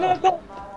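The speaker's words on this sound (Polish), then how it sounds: "Jest kury." A couple of short, clipped chicken clucks from Half-Life 2: Episode One, quick and fairly close, fading into quiet background.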